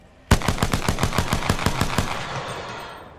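A single rapid burst of about a dozen sharp shots at a firing range, loud and close, ringing out briefly as it ends.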